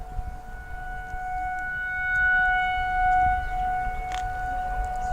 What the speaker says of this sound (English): You can hear the tornado sirens going off now,